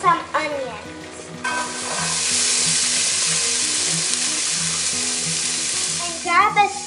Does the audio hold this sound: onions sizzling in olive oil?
yes